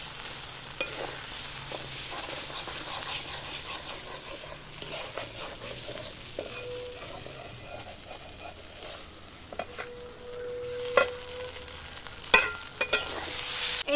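Banana blossom (mocha) cooking in a pan, a steady soft sizzle and frying hiss with repeated stirring scrapes and a few sharper clinks of the spatula, close and fairly quiet.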